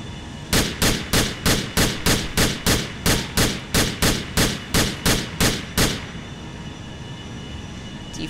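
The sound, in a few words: Glock pistol gunfire in GTA IV video game mod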